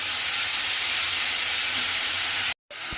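Chopped cabbage sizzles with salt in a hot wok, giving a loud, steady, broadband hiss that drops out briefly near the end and then resumes.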